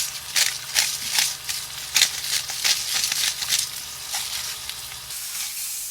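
A steak browns in a hot skillet, its sizzle rising and falling in repeated loud crackling bursts, close and uninterrupted by voices.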